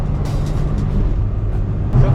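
Steady road traffic on a highway heading into Delhi: a continuous low rumble of cars, buses and trucks with a slight lift in engine noise near the end.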